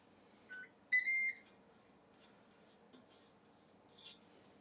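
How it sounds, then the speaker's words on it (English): A fancy electric multi-pot gives short electronic beeps as it begins a new sauté temperature setting while onions cook, a couple of clear tonal chirps followed by faint kitchen clatter. "it beeps when it starts a new temperature setting"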